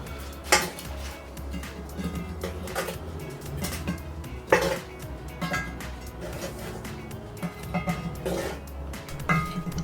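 Metal clanks and scrapes of coals or briquettes being placed onto the lid of a cast-iron Dutch oven during outdoor cooking of BBQ pulled pork, several sharp knocks spread unevenly over a steady low background hum.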